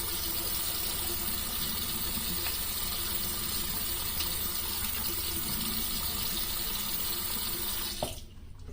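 A bathroom tap runs steadily for rinsing after a shave with a Rockwell 6S razor, a constant close hiss of water into the sink that cuts off near the end.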